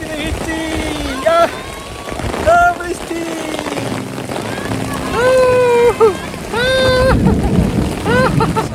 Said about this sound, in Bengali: আমরা সে বৃষ্টিতে কাঙ্ক্ষিত বৃষ্টি পেয়ে গেলাম